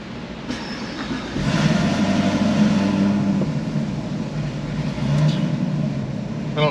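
6th gen Camaro SS V8 with new heads and cam, running on a dyno with a steady loud mechanical drone that swells and eases slightly, heard close up and alone.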